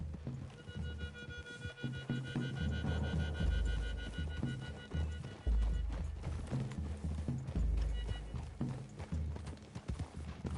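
Horse hooves clop steadily at a trot in Red Dead Redemption 2, mixed with low rumbling and creaking ambience, moderately loud and close, with no speech.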